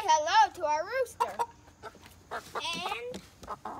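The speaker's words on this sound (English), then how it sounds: "Say hello to our rooster." A rooster on a home property gives a few wavering crowing and clucking calls, loud and close, mixed with someone talking and some background voices.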